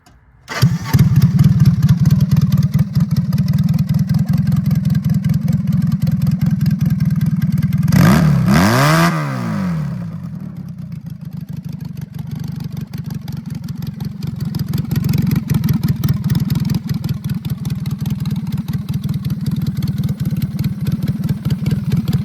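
A small engine on a lawn mower powered by a motorcycle engine cranks and catches, then runs loudly with a steady rumble, briefly dipping and revving before settling into a loud idle.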